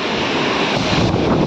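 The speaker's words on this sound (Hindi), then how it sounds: "कैसा पानी उड़ रहा है।" Wind-blown water spray roars at a hidden forest waterfall in a tiger reserve at dusk, a loud, steady broadband rush with gusty wind buffeting the microphone throughout.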